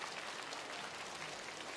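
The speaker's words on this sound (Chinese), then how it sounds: "我们把掌声送给他" Studio audience applause at a Chinese televised singing competition: steady, dense clapping that fills the whole short stretch at an even level, with no voices over it.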